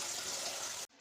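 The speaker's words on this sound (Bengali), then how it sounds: "বাঁধাকপিটা ভালো করে ধুয়ে নিই।" Water runs from a kitchen tap over a head of cabbage being washed, a close continuous gush that cuts off abruptly near the end, leaving near silence.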